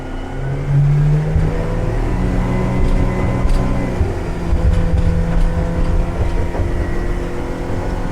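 A Hewescraft Sportsman 200 aluminum boat with a Yamaha 90 outboard drones steadily through a hard turn, its engine note holding loud and close with a low rumble under constant water and wind noise.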